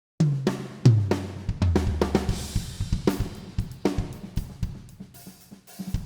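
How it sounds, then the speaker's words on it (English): An acoustic drum kit plays a steady groove, with punchy kick and snare hits ringing naturally under cymbals, close and dry with no effects. "this is the sound of the drum"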